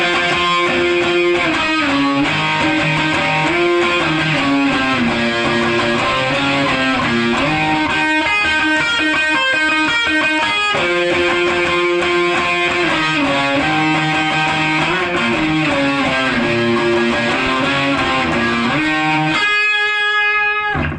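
Heavily distorted electric guitar solo, loud and continuous, with sustained bent lead notes over a dense, saturated tone for the full stretch, ending in a rapid burst of picked notes.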